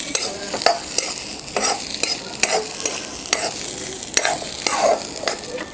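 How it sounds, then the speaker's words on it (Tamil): Onion, coconut and masala sizzle in a hot pan for a Tamil crab curry, with a spoon scraping and stirring in repeated close, rhythmic strokes over a steady frying hiss. "இப்போ இது எல்லாத்தையுமே வந்து நம்ம நல்லா வறுத்துக்கலாம்."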